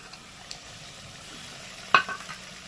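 Chicken kosha being sautéed with spices and Kashmiri chilli powder in a pan, a quiet steady sizzle with one sharp scrape of the spatula near the end.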